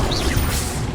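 An Incendio fire spell cast in Hogwarts Legacy: a loud, short burst of whooshing, crackling flame with a low rumble, filling about a second.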